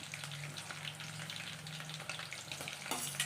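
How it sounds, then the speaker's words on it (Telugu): Green chilies frying in hot oil give a steady, dense sizzle that crackles evenly throughout, with a brighter burst near the end, and no talking. "ఒక 4-5 పచ్చిమిర్చి కట్ చేసి ఆయిల్ వేడెక్కాక వేయాలండి"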